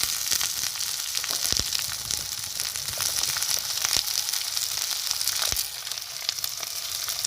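Chillies and onions sizzle and fry steadily in a hot pan for a Gujarati peanut bhajiya curry, a dense continuous hiss with occasional sharper crackles and pops, close and alone without talk.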